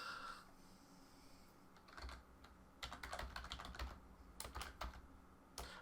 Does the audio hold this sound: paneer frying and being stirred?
no